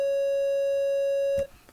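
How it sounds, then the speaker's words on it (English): A steady synthesized tone from the FL Studio 3xOsc synthesizer, set to a triangle wave, holds one pitch loud and alone for about a second and a half, then cuts off abruptly with a brief faint click. "What it also has is a triangle wave"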